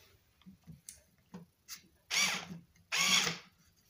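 Craftsman CMHT6650C cordless screwdriver running in two short bursts of whirring motor, loud and close, after a few soft ticks and clicks of handling.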